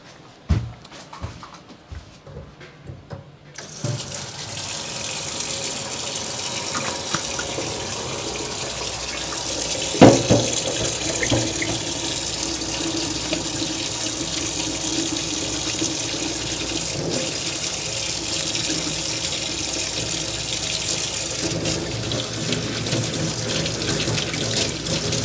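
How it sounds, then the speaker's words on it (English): After a few seconds of small handling knocks, a tap opens and water runs steadily into a sink while hands are washed, a continuous rushing stream with occasional splashes and shifts in flow, close by. "First, let me wash my hands."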